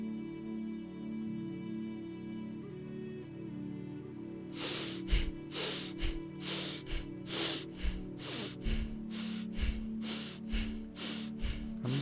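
Quick, forceful breaths in and out repeat in a steady rhythm during a guided meditation, each sharp rush of air landing over a soft sustained musical drone.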